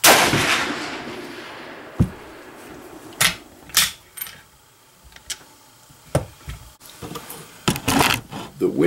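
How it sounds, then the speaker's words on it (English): Sharp rifle reports from a deer rifle at a shooting range ring out sharply at close range, followed by lighter clicks and mechanical handling noises with gaps between them. "Third and final shot for today."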